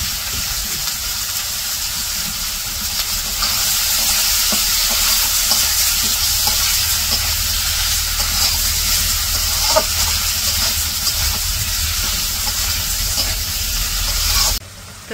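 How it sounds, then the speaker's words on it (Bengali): Tengra fish sautéing with spices in a pan in a village kitchen, a loud, dense sizzle holding steady for the whole stretch with faint stirring scrapes, cutting off abruptly at the end. "মশলার সাথে মাছগুলো কষিয়ে নিব"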